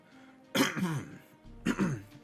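Two quick bouts of throat clearing and coughing, close and fairly soft, separated by a short pause.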